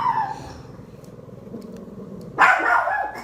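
Dogs Choco and Luna barking indoors: a short burst of several loud, sharp barks arrives near the end after quieter background noise, with faint yips earlier.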